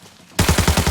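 Sharp, loud gunfire in Arena Breakout cracks in suddenly after a quiet pause, a fast series of closely spaced shots hammering out in a steady rhythm.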